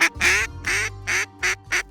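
Ducks quacking loudly and close by as a bear hunts them, five or six harsh, nasal quacks in a quick irregular series with short gaps between them.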